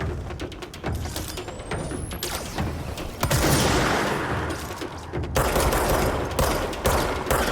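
Gunfire in the video game Control, rapid bursts of loud, close shots and booming blasts in quick succession with mechanical clanks, continuous throughout with no speech.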